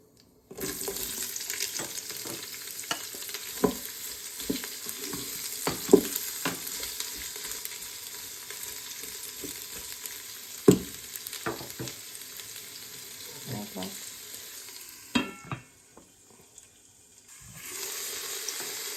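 Onion frying in a little oil in a pan beside chicken, a steady hiss that runs without a break, dotted with clinks and scrapes from stirring, heard alone with no voices.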